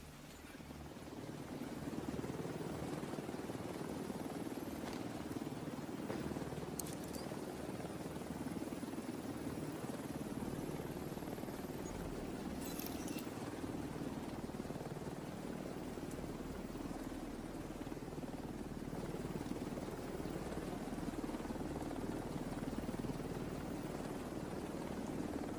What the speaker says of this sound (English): Exfiltration helicopter arrived.